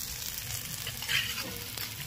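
Large prawns fry in a pan with browned potatoes and coconut, producing a steady, dense close-up sizzle with a brief surge of crackling as they settle, alone with no talk.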